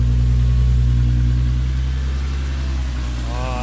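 A Volkswagen MK4 GTI VR6 engine, just reinstalled, idling smoothly and steadily with a deep even hum close by, a faint voice appearing right at the end.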